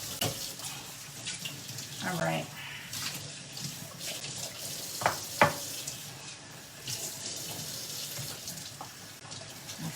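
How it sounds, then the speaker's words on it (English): Tap water runs steadily over food being rinsed at a kitchen sink during home cooking, a continuous wash with a few brief clatters, while a person speaks briefly over it. "rinse some of this stuff off"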